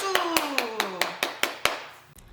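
Brief round of clapping for children and a teacher celebrating birthdays at a church children's service, about eight sharp claps in a steady rhythm, with a voice speaking over the first half.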